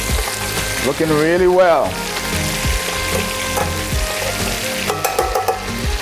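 Fish sizzles and fries steadily in a hot pan while being turned over, close and loud, with someone speaking briefly over the crackle.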